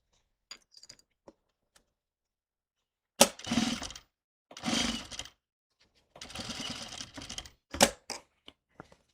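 A sewing machine stitches a non-slip rug in several short, whirring bursts separated by quiet pauses, with a few faint clicks between runs.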